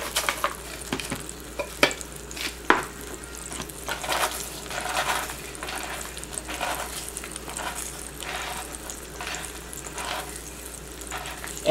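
Parmesan crusted swai fillets frying in a pan give a steady, close sizzle, with a few sharp clinks and shuffling stirring sounds over the hiss and no talk.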